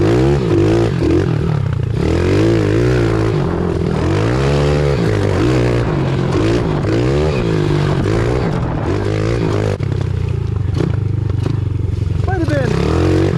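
Pit bike engines at a muddy race start, loud close revving and bogging with rising and falling pitch as a rider pulls away in third gear, with excited voices talking over the noise.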